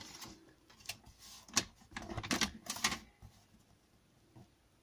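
A small paper trimmer from Action slices through a card cut to 10.5 by 15 cm. Several quick, close, rasping cuts and clacks follow in a short cluster, then the sound fades to quiet.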